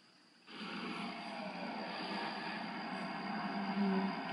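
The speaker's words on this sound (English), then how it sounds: "Okay, so there's a plane in there" Steady broadband roar of an airplane passing overhead, starting abruptly and holding at a constant level throughout, with a faint tonal hum low in the mix and no talking.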